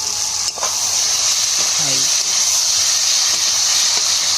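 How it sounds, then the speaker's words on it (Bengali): Dried fish being stir-fried in a pan, a steady loud sizzle and hiss with occasional scraping stirs, continuous throughout with no talk. "শুকনো মাছটা কষানো হয়েছে না, একটু কষে নেবো।"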